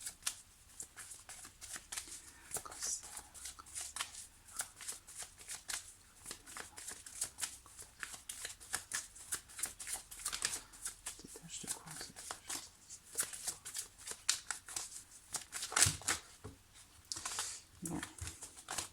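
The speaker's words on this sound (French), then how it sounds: "quand les cartes sautent comme ça, tout ensemble" Tarot cards shuffled by hand in repeated riffling bursts, close and fairly quiet, the cards flapping and slapping together, with a voice speaking French at times over the shuffling.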